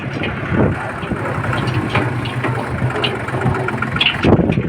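A tractor's engine runs steadily as it drives, giving a continuous low, rumbling drone that stays close and fairly loud throughout.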